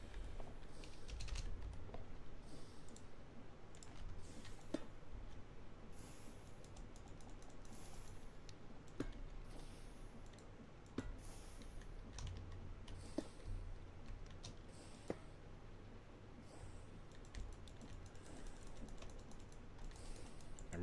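Computer mouse and keyboard clicks while playing a modded Minecraft game, a steady run of quiet, irregular taps and sharp clicks spread across the span, with no talk over them.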